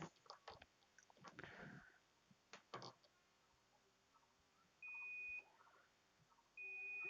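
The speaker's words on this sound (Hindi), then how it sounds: "ये देखिए उसमें बीप की आवाज़ आ रही है।" A multimeter set to continuity beeps steadily across a shorted horizontal output NPN transistor in a dead Videocon colour television, giving two sustained tones of about half a second each, close and clear, after scattered clicks and handling noise.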